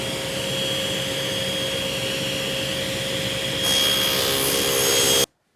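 A power saw cutting a kitchen cabinet side panel to exact length, a steady loud whine that grows brighter and harsher near the end, then stops abruptly.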